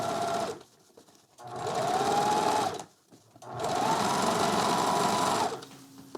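A sewing machine runs two bursts of top stitching along a seam on a lightweight 5-panel hat, each burst steady and close, separated by short pauses.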